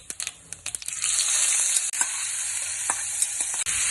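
Mustard seeds and cumin crackle in hot oil. A few sharp pops come first, then a loud, steady sizzle takes over, dotted with clicks of stirring, and no one talks.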